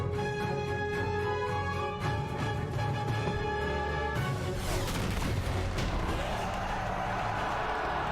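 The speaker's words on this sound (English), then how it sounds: "Lots of fireworks going off." Fireworks go off in World of Warcraft at the Argent Tournament in Northrend, loud booming crackling bursts that come in after a stretch of tonal game music.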